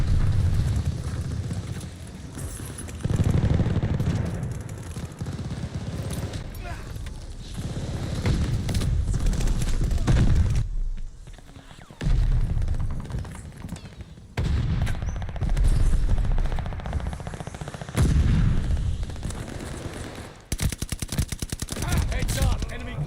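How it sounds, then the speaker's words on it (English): Allied airstrike explosions and gunfire in Call of Duty Vanguard, heavy booming blasts and rumbling bursts of shooting in loud dense waves with brief quiet gaps, close and continuous. "Allied airstrike coming in hot."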